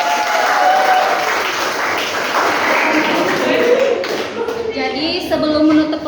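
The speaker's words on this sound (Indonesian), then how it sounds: "Beri aplaus untuk pemenang." Children in a classroom applaud the winner with a burst of brisk clapping that fades into scattered claps, tapping and shuffling, while voices chatter over it.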